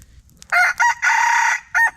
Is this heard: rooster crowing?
yes